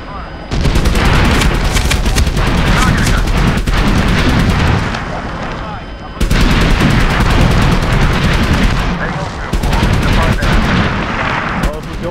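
An Apache helicopter killstreak in Medal of Honor Warfighter fires on targets with loud, sustained bursts of rapid gunfire and heavy booms in several long volleys separated by short gaps, with voices talking underneath.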